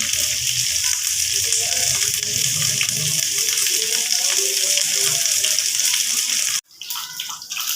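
Potatoes and okra frying with onions in a pan, a steady broadband sizzle running for most of the stretch, then cutting out abruptly near the end before a softer, uneven return.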